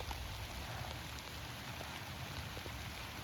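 Steady rain falls on a hiking trail beside the St. Vincent Ponds and Monastery Wetlands in Latrobe, Pennsylvania, making a dense, even hiss with scattered drop patters throughout and no voices.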